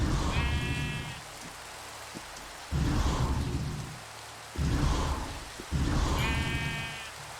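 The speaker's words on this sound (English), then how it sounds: "everybody's favourite bit, which is going to be raining for a while" Steady rain falls in the fantasy video game Magicka, a constant hiss with low rumbling swells that come and go, alongside brief bright chiming effects, and no talking over it.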